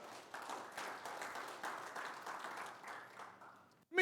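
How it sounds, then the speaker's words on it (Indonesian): A church congregation applauding during a Sunday service, a faint, even patter of many hands that continues for several seconds before stopping abruptly. "Berikan tepuk tangan."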